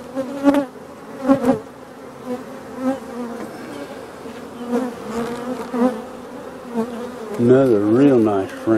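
Honey bees hum at an opened hive from a mean, defensive colony. The buzzing drones steadily and close by, with individual bees swooping near and rising in pitch, loudest toward the end.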